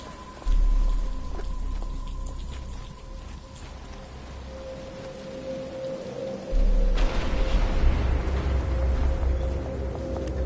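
Steady rain falls in a Batman video game set at Arkham Asylum, a continuous hiss of drops with a low rumble that grows heavier partway through, with no voices.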